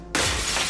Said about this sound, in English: and then you hear glass shatter